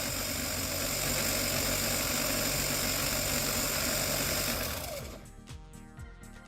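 An Xmods Dodge Ram RC truck's small electric motor whines loudly and steadily for about five seconds, then spins down and cuts off, leaving faint clicks and a quieter tail.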